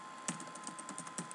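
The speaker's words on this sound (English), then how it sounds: "So you just type that." Typing on a computer keyboard while writing Minecraft mod code: a quick, irregular run of light key clicks, close and faint, with no talking.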